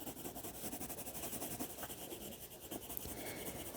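A colored pencil rubs across paper while coloring a holiday wreath drawing, making soft, continuous scratchy strokes, quiet and close with no talking.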